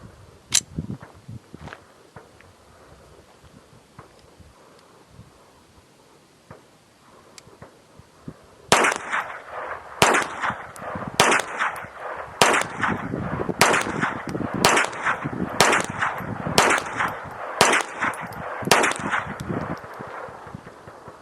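A .22 rifle with a Victory trigger and muzzle brake fires CCI Mini-Mag rounds: after a quiet start, about a dozen sharp, loud shots ring out in a fairly even rapid rhythm, each with a short echo, and nobody speaking.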